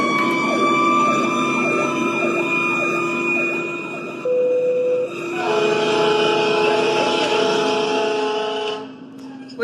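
A fire truck siren wails loudly nearby on a road in Lexington, cycling through rising and falling sweeps, then shifting to a steadier, higher tone and layered horn before fading abruptly at the end.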